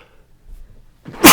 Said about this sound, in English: I think I'm about to sneeze soon.